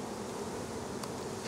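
Honeybees buzz steadily while being installed into a top bar beehive, a dense, continuous close-up drone with no voices.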